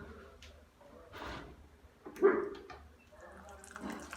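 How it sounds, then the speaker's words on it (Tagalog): Water is poured into a bowl of fried chicken batter, a soft, steady trickle and splash at moderate level with brief clatters of the bowl and utensils. "So lagyan mo natin 'to ng tubig."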